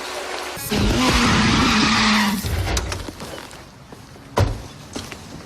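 Car pulling away on a French film set, tires screeching and skidding loudly for over a second as the engine revs, followed by quieter rolling, clunks and a sharp knock near the end.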